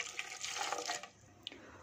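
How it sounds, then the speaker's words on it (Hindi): A quarter cup of water is poured into a blender jug holding coriander and mint leaves for chutney, giving a brief steady splashing rush that stops after about a second, followed by a faint clink. "1/4 कप पानी शामिल कर देंगे"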